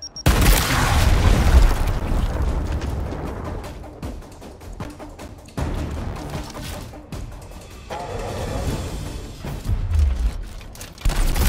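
Frag grenade explosion in the video game Gears Tactics: a loud, deep boom with a crashing burst that rumbles on, and further heavy thuds and debris-like crackles follow over several seconds.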